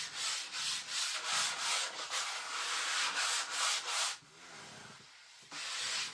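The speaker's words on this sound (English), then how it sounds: "I will lightly sand over this. With my 120 sandpaper." Hand sanding stained wood with 120-grit sandpaper, a steady rhythmic scratchy rubbing in repeated back-and-forth strokes, close and fairly loud, with a brief pause near the end before sanding resumes.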